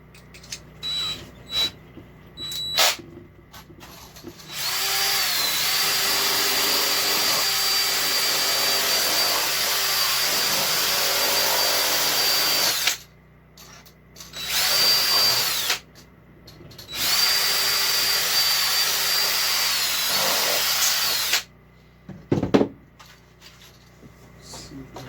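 A power drill widens holes during a composting toilet install in an RV, whining loudly in long sustained bursts with short pauses between them and a few brief knocks and clicks at the start.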